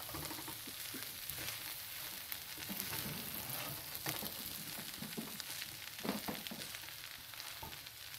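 Fish curry with added chili is stirred as it fries in a pan, giving a steady low sizzle with scattered scraping and clattering strokes throughout, and no voices.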